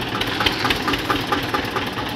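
Diesel engines of a Mahindra 575 and an Eicher 242 tractor pulling against each other in a tug-of-war rumble loudly and steadily with a rhythmic knocking throb, close by and without talk.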